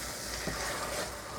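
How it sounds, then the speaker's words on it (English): Ingredients stirred in a hot pan for a Christmas turkey stuffing, a steady sizzle with soft scraping from the spoon moving through them, close and continuous with no talking. "Let's give these a stir through."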